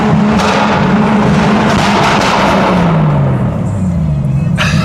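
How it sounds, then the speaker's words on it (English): A 1000-horsepower 2002 Lexus IS 300 with a built 2JZ engine swap roars loudly up close, its rolling anti-lag producing rough, popping engine bursts and a falling pitch, ending with a sharp crackle. "And it's got rolling anti-lag, which sounds good under bridges."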